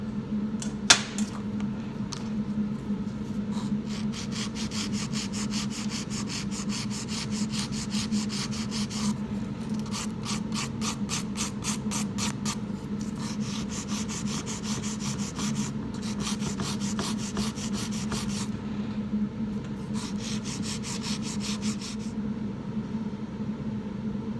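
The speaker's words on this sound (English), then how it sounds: "the product here is thicker than the product here in the middle. So this needs filing off more." A file scrapes a sculpted acrylic nail in quick, rhythmic back-and-forth strokes, close and steady, with short pauses between bursts of rasping.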